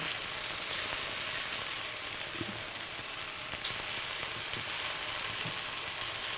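Sliced potatoes frying in a pan after being flipped, a dense, steady, loud sizzle with faint scattered crackles, close up and without speech.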